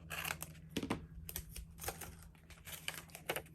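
Scissors snip decorative washi tape in a few quick, close, crisp cuts and rustles, quiet and dry with no voices.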